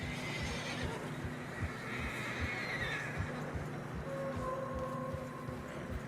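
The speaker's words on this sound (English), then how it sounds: "Horses are struggling." In the Red Dead Redemption 2 video game, horses struggle through deep fresh snow, whinnying and snorting over a steady trudge of hooves and a low rumbling background, with no speech.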